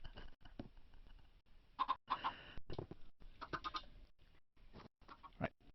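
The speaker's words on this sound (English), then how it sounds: "Oh, do you mean the chickens?" Chickens in the video game Minecraft cluck in short, repeated bursts, fairly close and moderately loud, with brief pauses between calls and no talking.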